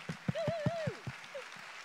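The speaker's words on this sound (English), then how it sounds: "Give the girls a big round of applause so Madeline can hear in San Francisco." Quiet, rhythmic clapping from a small audience at the Copa Jerez 2021 wine event beats out evenly, with a wavering whistle rising over the first claps before they fade.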